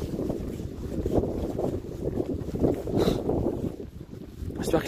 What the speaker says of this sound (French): Il faut juste que ce putain de vent dégage.